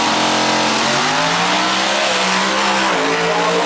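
A drag race car launches and accelerates down the strip at Maryland International Raceway. A loud, steady engine wail climbs in pitch through the gears, with a brief shift near the end. The sound is close and unbroken.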